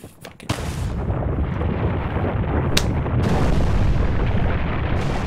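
Heavy, sustained gunfire and explosive booms in a video game shooting fight, loud and continuous with a sharp burst near the start, no talking.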